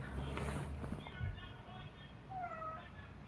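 A pet cat gives a faint, brief meow partway through, set against quiet room noise.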